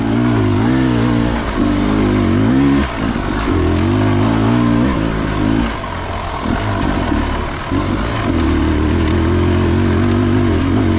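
A Beta 300RR two-stroke dirt bike on an enduro trail keeps up a loud, continuous close engine roar, revving and easing as it climbs and drops over uneven ground.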